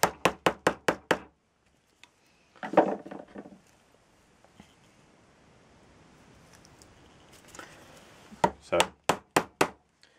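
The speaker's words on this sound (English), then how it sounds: "just chipping away with your chisel" A chisel chops mortises in wood for the centre panel of a tool cabinet door. A quick run of five sharp mallet strikes, then a heavier chop, a quiet pause, and another rapid burst of about six crisp knocks.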